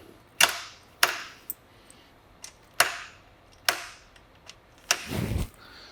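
Metal bullets drop into a Cortina Bullet Flow feeder, making several sharp, close clinks spaced about a second apart, followed by a brief rattling slide, with no talking.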